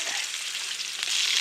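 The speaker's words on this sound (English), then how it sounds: "whack our lovely ribeye steak straight in there. Ready for the sizzle?" Ribeye steak sizzles loudly in a pan over an open campfire, a close, continuous hiss and crackle of frying fat with no talking.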